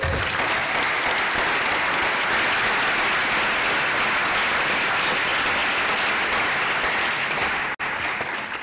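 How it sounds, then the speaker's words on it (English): Dense, sustained audience applause for the translators at a degrowth gathering on North–South alliances, a loud even wash of many hands that holds steady before a brief dip near the end. "I ask you to give a great applause to the translators"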